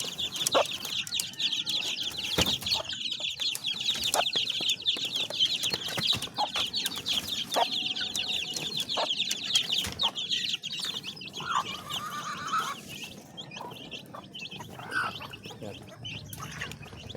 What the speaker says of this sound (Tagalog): Tapos pupuntahan pa ho natin yung isang inahin na may sisiw.